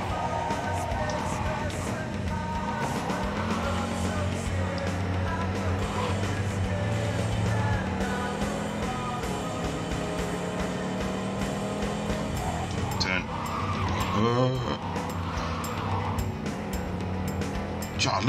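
A car drives through the city in the video game Cyberpunk 2077, its engine droning steadily and close with tire noise and a brief squeal, and someone talks over it at times.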